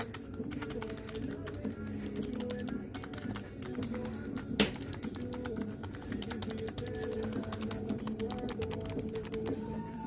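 Typing test on an old membrane keyboard: a continuous flurry of soft, dull key taps at close range with one sharper thump midway, steady throughout.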